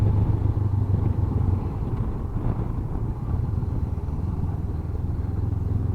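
A 2019 Honda CB500X motorcycle engine hums on a test ride, a steady low rumble with road and wind noise that holds evenly throughout.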